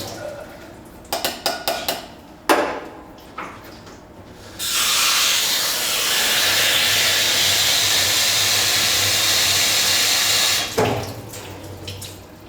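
Drained black beans rinsed under a running kitchen tap, a steady close hiss of water lasting about six seconds, framed by brief clatters and knocks of the colander and sink before and after.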